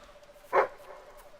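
A single short dog bark rings out in the video game Fable 3, moderately loud over a quiet ambient game background.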